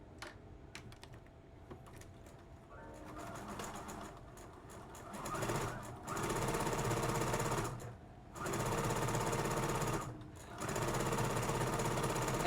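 A sewing machine stitches fabric for a child's dress at long stitch length, running in three sustained bursts separated by brief pauses, with a softer rattle of lighter stitching first.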